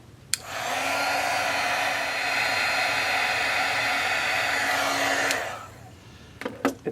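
An embossing heat gun blows a steady, loud whooshing roar for about five seconds while melting glitter and embossing powder from underneath, then switches off, followed by a few light taps.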